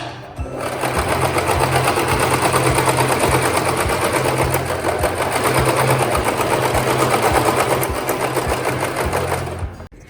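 A sewing machine stitches sharara fabric in a long, loud, steady run of fast, even rattling that stops just before the end.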